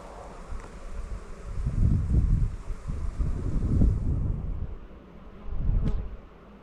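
Honeybees streaming back to their apiary hives ahead of rain, a dense low buzzing swarm that swells and fades in waves, mixed with gusty outdoor wind noise.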